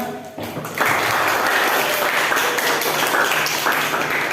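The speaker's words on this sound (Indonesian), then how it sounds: "Oke, tepuk tangan dulu bagi kelompok 2." Students in a classroom clapping for a presenting group, steady loud applause that swells after a brief start and holds evenly to the end.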